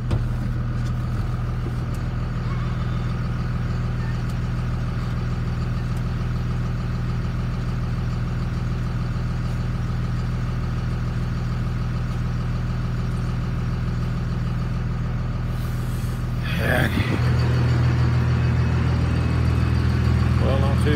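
A pickup truck fitted with a peat box drives along, its engine humming steadily at a low pitch throughout. Near the end a clatter breaks in as the engine note shifts upward.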